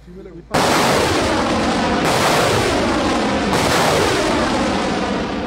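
Artillery fire in a documentary: a sudden, very loud roaring blast erupts and carries on as a dense, continuous rumble, swelling again twice with new bursts.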